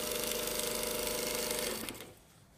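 A sewing machine runs a steady, fast stitch along a shirt yoke seam, a close and continuous mechanical whir that stops abruptly near the end.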